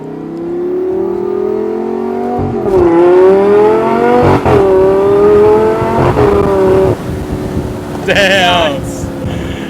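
A Lamborghini STO sports car with the roof off revs hard up close. The engine note climbs loudly through several pulls, and each rise breaks off sharply at a gear shift.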